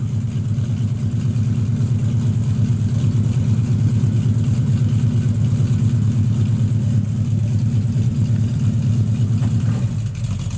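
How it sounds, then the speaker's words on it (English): A 1967 Chevrolet Chevelle SS 396 with a full MagnaFlow exhaust idles steadily up close, a deep, even rumble that holds unchanged throughout. "Got all MagnaFlow exhaust on it."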